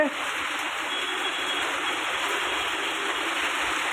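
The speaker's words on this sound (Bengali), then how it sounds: "বৃষ্টি তো যথারীতি শুরু হয়ে গেছে" Steady rain falls without a break while rainwater runs off through a drain, making a continuous dense hiss at an even loudness.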